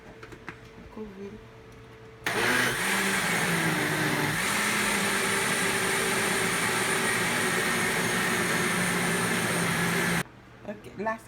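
A kitchen blender whirs loudly as it blends cooked porridge, a steady high-pitched motor roar lasting about eight seconds, with brief talking before and after.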